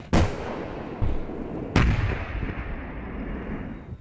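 A tank cannon fires during a Singaporean military exercise: a sharp heavy blast, a lighter one, then a third loud report, each trailing off in a long rumbling echo, with no voices.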